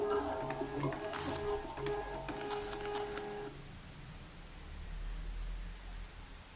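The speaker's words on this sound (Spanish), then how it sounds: "mandamos a impresión, en este caso a la impresora también de etiquetas" A Zebra label printer runs for about three seconds, whirring and ticking steadily as the label feeds out, then stops, leaving a quiet room hiss.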